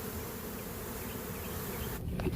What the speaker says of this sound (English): So we got about 100 bees on there now